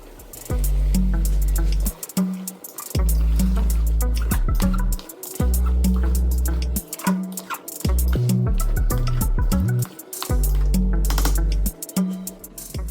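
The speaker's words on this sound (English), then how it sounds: "So we'll add now blended veggies, so your blended pepper." Blended vegetables and pepper pour into a pot of beef stew, loud and close, with thick glugging and splattering in repeated bursts separated by brief pauses.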